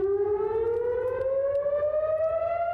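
An air raid siren wails over Tel Aviv at dawn, a loud, steady rising tone sustained throughout with no voices.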